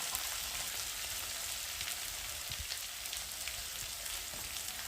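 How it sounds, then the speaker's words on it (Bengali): Potatoes seasoned with ginger and salt fry in a hot pan, giving off a steady, even sizzle and crackle that stays close and constant throughout with no talking. "আর নুনটা দিয়েছি, দিয়ে একটু ভালো করে ভেজে নিচ্ছি।"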